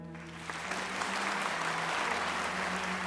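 Dense, steady audience applause fills the room, close and full, holding at an even level from start to finish with no talk over it.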